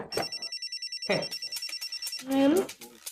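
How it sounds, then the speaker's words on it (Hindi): A telephone rings in a repeating pulsed pattern of bright electronic tones, lasting about two seconds before a voice briefly overlaps and a short rising tone follows at the end. "फोन आ रहा है। फोन आ गया।"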